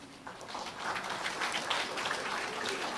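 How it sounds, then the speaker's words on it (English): Soft round of applause from medical trainees and guests at a white coat ceremony, a patter of scattered claps building over a few seconds, faint and somewhat distant. "You should give yourself a round of applause."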